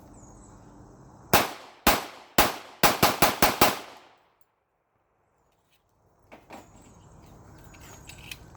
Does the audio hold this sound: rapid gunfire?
yes